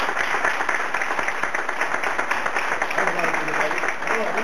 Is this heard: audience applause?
yes